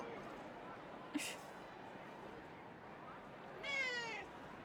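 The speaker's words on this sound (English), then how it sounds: "Cat, get out of the way, please." A cat meows faintly in a room, one brief quiet mew early and a longer wavering meow near the end, over a low steady background hum.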